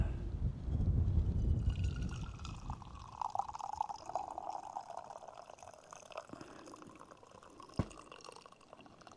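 Freshly brewed coffee is poured out outdoors, starting as a fuller low splashing stream that thins to a quiet trickle, with a single faint drip near the end and no voices.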